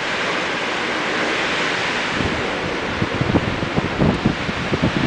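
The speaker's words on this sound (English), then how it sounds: "And you can hear the wind." Strong wind roars during a winter snowstorm, a steady broad rushing noise that grows into gusty buffeting against the microphone in the second half, with no talking.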